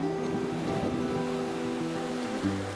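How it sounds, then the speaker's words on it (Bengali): Sea waves wash continuously onto a beach at night at Digha, a steady broad roar close by and alone, with a slight swell near the end. "বসে চা খাচ্ছি আর সমুদ্রের ঢেউ এনজয় করছি"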